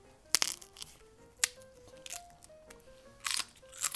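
Sharp, crisp snaps of a thin homemade potato chip, microwaved with olive oil, breaking near the microphone, three brittle cracks spaced apart in a quiet room.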